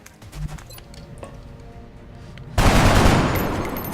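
SMG gunfire in the strategy game XCOM Long War, a loud dense broadband burst that starts suddenly partway through and holds steady to the end, following quieter game sounds.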